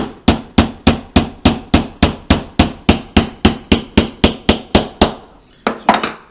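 Nails are hammered into a wooden reindeer craft: about twenty sharp, evenly spaced hammer strikes ring out loud and close in a steady rhythm, followed by a short pause and a final cluster of quick taps.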